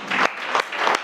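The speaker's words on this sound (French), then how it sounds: "Donc, sous vos applaudissements, je vais recevoir ici Amadou Sek." An audience at a French-language conference applauds a guest being welcomed on stage, a brief dense burst of clapping that pulses in waves, close and loud.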